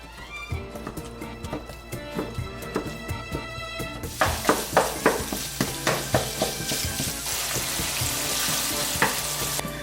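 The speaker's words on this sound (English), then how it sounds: "You want to brown your sausage up on medium heat in a skillet." Sausage browns in a skillet over medium heat with a sizzle that rises to a dense, loud crackle halfway through, while a utensil scrapes and taps in a quick, regular rhythm.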